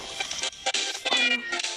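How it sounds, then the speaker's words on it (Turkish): A cat meows close by in a quick string of several loud, drawn-out calls with brief gaps between them, alone without talk. "Kedim benden bir şey isteyecek hemen."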